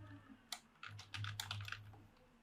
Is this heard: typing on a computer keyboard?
yes